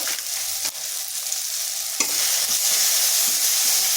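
Spice masala fries in a pan, a bright, continuous close-up sizzle that grows louder after a sharp knock midway, with no talking.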